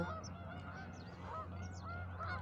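Geese honk repeatedly in short overlapping calls over a steady low hum, a flock at moderate distance in a public park with no talking.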